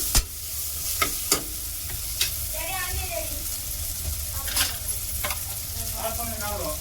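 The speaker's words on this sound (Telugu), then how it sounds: "కొత్తిమీర పుదీనా గ్యాస్ అనేది సిమ్లో పెట్టాలి ఇలా ఫ్రై చేసుకొని" Coriander and mint fry on low heat for Ambur-style mutton biryani, a steady close sizzle broken by sharp utensil taps and scrapes from stirring.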